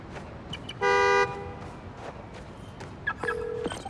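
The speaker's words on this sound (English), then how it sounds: "Find the horn, find the car." A car horn honks in Marvel's Spider-Man: Miles Morales, triggered by a key fob to locate the vehicle: one short blast, then a second lower honk a couple of seconds later, over city ambience.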